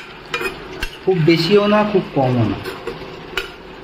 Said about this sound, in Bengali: এবার ভালো করে তেলের সাথে এটা নাড়িয়ে চাড়িয়ে মিক্স করে নিতে হবে।